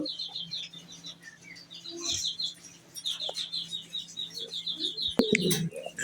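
Mundian pigeons, a big-sized breed, calling near a loft: soft repeated coos under a steady scatter of high chirps from other birds, with a brief rustle and wing flutter toward the end.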